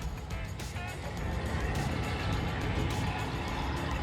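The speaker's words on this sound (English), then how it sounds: "That V8 is a Hemi." A Hemi V8 engine in a truck-chassis party vehicle idles with a deep, steady rumble, close by and constant throughout, without any talking.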